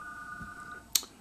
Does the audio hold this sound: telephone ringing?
yes